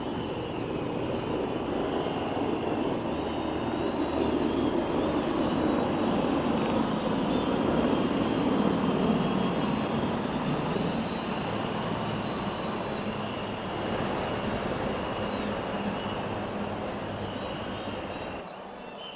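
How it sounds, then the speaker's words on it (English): A continuous, heavy engine roar of a South African Air Force helicopter formation flying overhead at a display, steady and loud throughout with a broad rumbling drone. "Helicopter formation"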